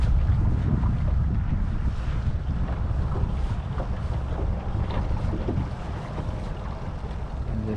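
An outboard boat motor idling in gear while the boat turns slowly on the water, a steady low rumble under heavy wind buffeting the microphone, with no voices.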